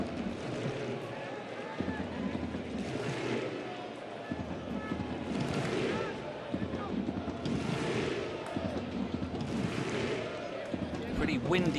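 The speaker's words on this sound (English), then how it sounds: "Windy day at the Cartagena Nova." Wind gusts across an open football stadium in Cartagena during a match, a steady broadband rush rising and falling in waves under a commentator's voice.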